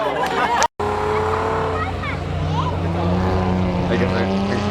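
A BMW four-wheel-drive rally car on a closed rally stage roars past with a loud, sustained engine note, under excited commentary from nearby spectators.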